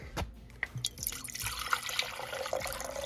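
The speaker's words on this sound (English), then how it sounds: "I'm gonna add a little bit of water to it." Water poured into a beaker during gold-filled scrap refining, a close, quiet splashing trickle with drips and a rising fill over about three seconds, no talking.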